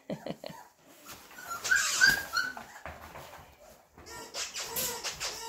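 A 27-day-old Flat-Coated Retriever puppy whimpers and yips in high, thin whines that rise and fall, with soft rustling and movement between the cries.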